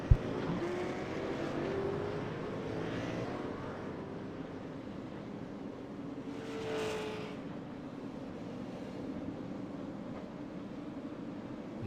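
Race cars roar back to full throttle on a green-flag restart at Concord Speedway's asphalt oval, a steady broadband engine drone with a pack surging past around the middle, heard from a distance with no talk.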